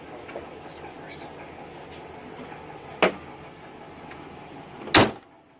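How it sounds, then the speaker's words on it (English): Two sharp door slams on a 1997 Chevy Suburban ring out a couple of seconds apart, the second louder, over a low background rumble. "And it's a Chevy, you gotta slam the doors."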